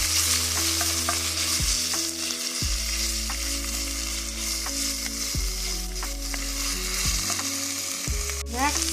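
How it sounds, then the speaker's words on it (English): Minced garlic sautés in a pan for steak chili, a constant loud hiss of frying with scattered scrapes from stirring, heard alone under a steady musical background. "I'm going to saute that for 1 minute"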